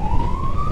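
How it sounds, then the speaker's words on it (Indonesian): Ambulance siren on a funeral escort leaving a hospital in Bandung, a steady high wailing tone held close and loud throughout, with low rumble beneath. "sirine ambulannya"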